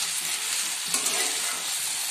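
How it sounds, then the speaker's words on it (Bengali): Onion, chili, garlic and prawns fry in a pan, giving a soft, steady sizzle with a light stir near the middle, alone and fairly quiet. "এবার এগুলো দিয়ে আমি একটু ভাজা ভাজা করব।"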